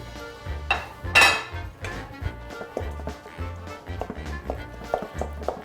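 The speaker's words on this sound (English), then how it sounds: "you're gonna take your cornbread and just kind of crumble it up in the pot with your spoon" A metal spoon crumbles hot cornbread in a pot, giving a series of scraping clinks and soft knocks at an uneven pace that are close and moderately loud.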